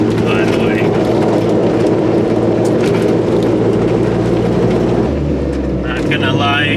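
Loud road roar from crazy off-road tires on a vehicle fitted with Rock Krawler lower control arm bushings, a constant dense rumble filling the cabin, with someone talking over it.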